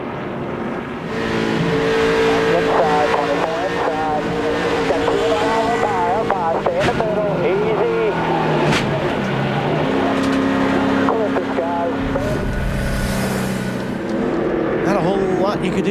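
Onboard NASCAR Nextel Cup race car engine riding with a driver at Fontana, California in 2005, a loud steady drone with shifting pitch under continuous commentary voices.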